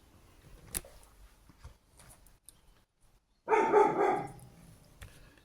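A single short burst of dog barking rings out clearly after quiet rustling, a few quick barks from a dog nearby.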